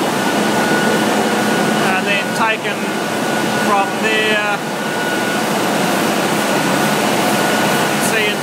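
An X-20 extruder line blows aquarium feed pellets into a dryer, giving a loud steady roar of air with a constant hum, while someone talks over it.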